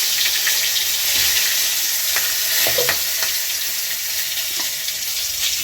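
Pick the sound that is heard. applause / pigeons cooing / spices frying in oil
spices frying in oil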